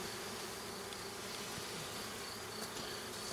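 Honey bees hum at an open Layens hive, a dense steady buzz close by with occasional individual bees passing near, no talking.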